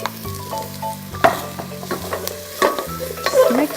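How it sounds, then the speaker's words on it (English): Celery, carrot and potato for Indonesian oxtail soup are stirred in a hot pot, sizzling loudly with repeated scraping and clattering strokes of the utensil, close up and with no voices. "Just mix well together."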